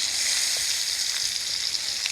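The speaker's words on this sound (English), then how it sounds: "I'm going to try and simulate double frying by flipping it twice" Loud, steady sizzling of European perch (redfin) fish frying in hot oil in a pan, a dense hiss with occasional pops, and no voices.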